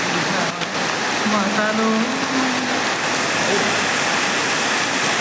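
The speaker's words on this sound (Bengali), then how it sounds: "মুষলধারে বৃষ্টি যাকে বলে সেটাই আমরা দেখতে পাচ্ছি।" Heavy downpour drenching a rainforest, a dense steady roar of rain throughout, with a voice singing briefly over it near the start.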